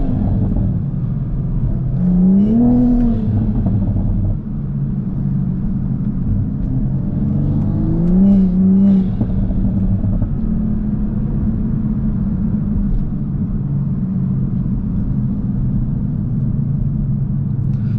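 A 2020s MK5 Toyota Supra driving with its engine revving, a deep steady rumble with two rising and falling rev swells, heard from inside the car and fairly loud with no talking.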